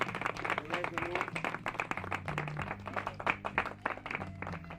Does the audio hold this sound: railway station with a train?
no